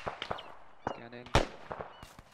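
Sharp gunshots in ARMA 3, several short cracks scattered across the moment with one loud close report in the middle, mixed with faint radio-like tones and background game noise.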